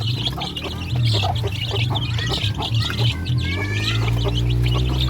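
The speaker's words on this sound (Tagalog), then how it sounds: "Ito yung mga sisiyo natin." Roughly twenty young chicks in a farmyard pen peep and tweet in a steady, overlapping chorus close by, with a low hum running underneath throughout.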